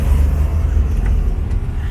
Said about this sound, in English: So look at all the traffic now is building up due to that one.